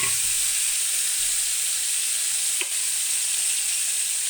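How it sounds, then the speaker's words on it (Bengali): Ridge gourd paste fries in hot oil, producing a steady, loud, close sizzling hiss that continues without a break, with only a faint clink partway through. "আমার তেলটা গরম হয়ে গেছে যে আগে থেকে বেটে রাখা ঝুলঝুল বাটাগুলো দিয়ে দিতে"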